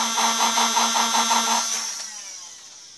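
A loud, steady mechanical whir with a fast pulsing rhythm from toy foam blaster flywheels spinning up, then winding down and fading over the last second.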